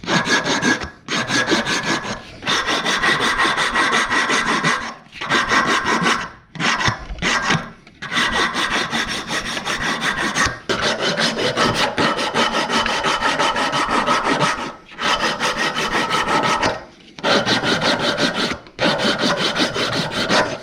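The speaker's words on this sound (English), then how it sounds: "So I got the shape, profile, everything all sanded." Hand sanding of an oak wood musky twitch bait lure makes steady rasping strokes in repeated bursts, close and fairly loud, with short pauses between passes.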